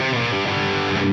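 Distorted electric guitar lead tone played through a BOSS DD-200 delay setup, a short sustained overdriven note ringing out alone and fairly loud.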